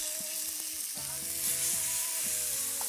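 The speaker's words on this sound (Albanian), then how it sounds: "Kujdesim që mishit skuqet nga gjitha krat." Pieces of meat fry in a hot pan with a steady, close crackling sizzle, a low hum and occasional stirring knocks running underneath throughout.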